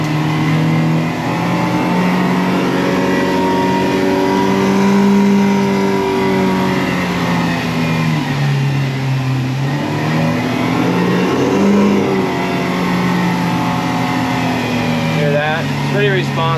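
A Yamaha 115HP outboard on a 2006 Duckworth Advantage 18 boat runs loudly for the whole stretch, its pitch rising and falling as the throttle changes, with someone talking over it.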